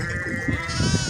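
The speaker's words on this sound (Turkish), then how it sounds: "En sevdiğim kuzulardan bir tanesi." A single young lamb gives a short, close, wavering bleat on an Anatolian farm, with faint background farm noise.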